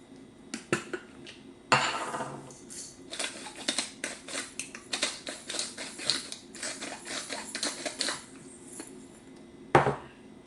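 A spoon clinks and scrapes around a bowl, mixing courgette tart filling seasoned with salt and pepper: quick, busy clattering strokes that stay close and moderately loud, pausing briefly near the start and end.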